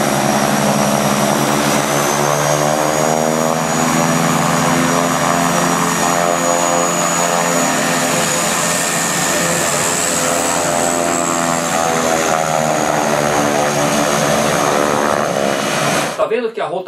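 A propeller airplane engine revving up to begin taxiing, loud and continuous with a rising, droning tone and steady harmonic whine, close by, cutting off abruptly at the end.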